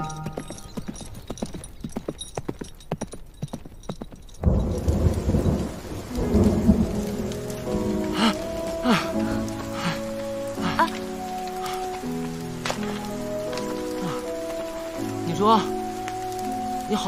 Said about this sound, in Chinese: 外面还下这么大雨